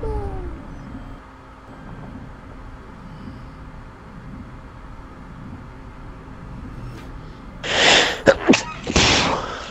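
Near the end a person sneezes sharply in a couple of loud bursts, following a stretch of quiet room noise with faint game sounds and background hum.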